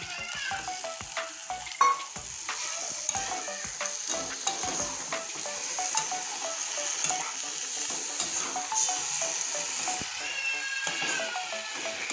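Chopped tomato stir-fried with potatoes in a pan for a dry mustard-paste curry: a steady close sizzle with frequent rhythmic spatula scrapes and stirring knocks, no talking.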